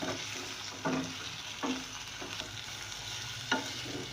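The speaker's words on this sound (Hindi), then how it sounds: "और गोश्त को मैं भूनूंगी इतना कि ये पिंक कलर का हो जाए थोड़ा सा" Beef pieces fry in a pan for bhuna, a steady close sizzle with a few scraping stirs of a spoon breaking through at intervals.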